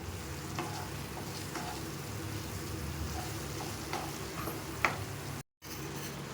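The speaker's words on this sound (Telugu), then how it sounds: "ఇందులోనే కొత్తిమీర పుదీనా కూడా చల్లుకొని బాగా కలుపుకుందాం." Kasuri methi, garam masala, coriander and mint stirred into paneer butter masala in a pan, giving a steady close sizzle with soft scraping spoon strokes and a brief clink, no talking.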